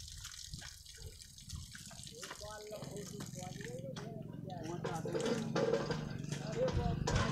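Water running from a tap, splashing and trickling steadily and growing louder, while people talk over it.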